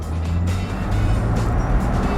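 A 2021 Land Rover Defender diesel pulls hard under acceleration, its steady low engine drone and road noise filling the cabin continuously without any talking.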